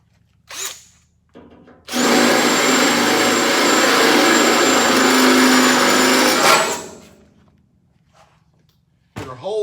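A drill bores a hole for a nut insert during race car dash fabrication, a loud, steady high-pitched whine lasting about five seconds between brief clicks and short bursts before and after.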